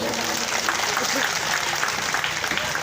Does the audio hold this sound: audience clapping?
yes